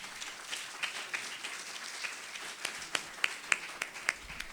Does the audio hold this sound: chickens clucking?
no